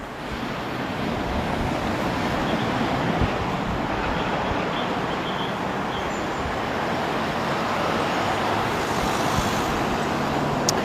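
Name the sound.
road traffic noise on a busy road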